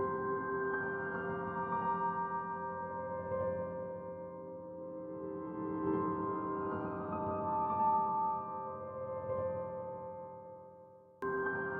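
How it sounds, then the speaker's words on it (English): A reversed waveform treated with a huge reverb, exported and flipped back, forms a music track intro: a sustained tonal drone with a swelling, smeared texture that grows over about eleven seconds and cuts off abruptly at the end. "made it into a waveform, reversed it, added a huge reverb, exported it again, reversed it again"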